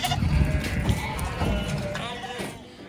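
Ewes and lambs bleat repeatedly while being pushed around a sheep shedder on a farm, a dense overlapping chorus of near and mid-distance calls that fades slightly toward the end.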